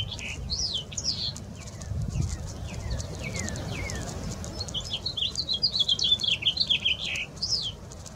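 House finch song in a New York population descended from California birds: a long run of bright, varied warbled phrases and quick chirps, fairly close, over a low steady rumble of background noise, with no talking.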